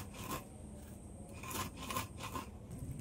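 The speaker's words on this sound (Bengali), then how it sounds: "চিনিটা খুব অনেক বড় বড় দানা, তো ওই জন্য একটু গুঁড়ো করে নিচ্ছি" Coarse-grained sugar is ground into powder, making faint gritty rasping and rubbing strokes in a few short bursts, quiet and close, with no talk.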